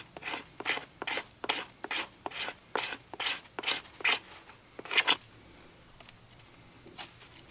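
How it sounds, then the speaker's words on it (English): A knife blade scrapes shavings off a piece of heart pine fatwood in about a dozen quick, rhythmic rasping strokes close to the microphone, then stops, leaving quiet. "Basically all I'm doing is just scraping this off, this material, and saving it"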